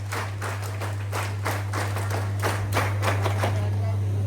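NCC cadets clapping together at a prize distribution, a brisk run of hand claps from a group heard close, with a steady low hum underneath.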